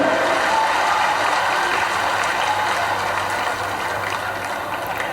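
A large crowd at a Prime Minister Modi election rally in Morena applauds, a steady dense roar of clapping held evenly throughout.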